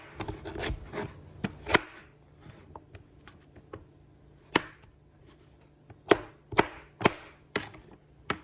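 A knife chops ingredients on a cutting board in irregular bursts of sharp, close knocks, some quick clusters and some single strikes, with quiet gaps between and no talk.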